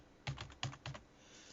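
Computer keyboard typing: three quick clusters of close, soft key clicks in a quiet room, each a short flurry of taps.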